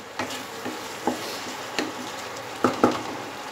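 Onions fry gently on low heat for shol keema, a soft steady sizzle broken by several light stirring taps and scrapes of a spoon in the pan.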